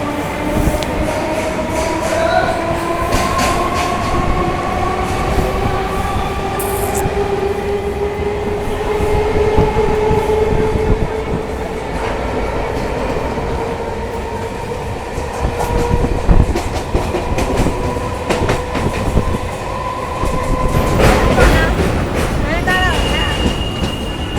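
A train runs along the Barddhaman to Howrah chord line near Baranagar station, with steady rolling rumble and long, gliding wheel or motor tones. Brief louder rattles come near the end, and the noise stays close and continuous throughout.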